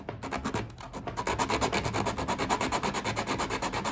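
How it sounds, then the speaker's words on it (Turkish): Rhythmic back-and-forth rasping of yellow sandpaper on the underside of a wooden door threshold, close and steady, quick strokes repeating after a brief quiet start. "tam uyumlu olması için altını bu şekilde zımparalıyoruz."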